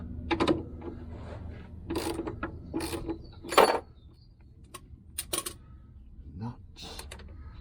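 A ratchet undoing the differential mounting bolts on a 1973 Triumph Stag, close bursts of metallic clicking and clatter in short irregular spells, with quieter gaps between them.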